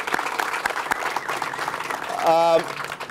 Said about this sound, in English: We need to give a tremendous round of applause for Cecile Bedore